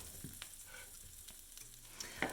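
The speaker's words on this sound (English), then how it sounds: "they will soak up that hot oil and just fry to a crisp" Dehydrated vegetables with no moisture left fry in hot oil, giving a faint, steady sizzle with a few soft scrapes and a sharper clatter at the end.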